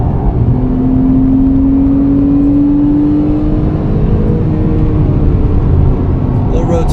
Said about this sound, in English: And then squeeze the gas on the way out.